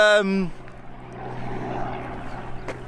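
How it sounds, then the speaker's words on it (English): A voice speaks briefly, then a steady, distant rumble of a helicopter overhead carries on at moderate volume. "So there's a helicopter up there. It's a cool helicopter."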